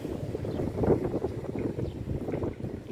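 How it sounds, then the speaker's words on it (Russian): Outdoor wind buffets the microphone steadily, a low rumbling gust noise in a residential courtyard area of Kudrovo near Saint Petersburg, close and continuous for the whole stretch. "Ветер, вот где ветер."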